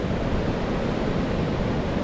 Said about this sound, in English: This is the Andaman Sea, right there.